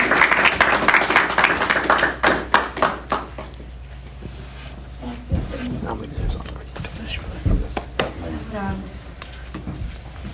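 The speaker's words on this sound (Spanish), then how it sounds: "quiero que recibamos con un aplauso fuerte" Congregation applause in a church meeting, brisk clapping at the start that fades out within a few seconds, followed by someone speaking and quieter room sounds.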